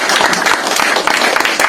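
Audience clapping welcomes a speaker at a Korean political forum lecture, a dense, continuous burst of applause close and loud throughout.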